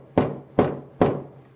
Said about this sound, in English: Take the mallet and you hit it like so.